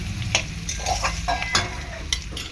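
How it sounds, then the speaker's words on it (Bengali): Lote fish frying in hot oil in a pan while being stirred, a steady sizzle broken by repeated scraping and stirring strokes, close and continuous. "দু মিনিট এরকম হালকা করে ভেজে নেবো"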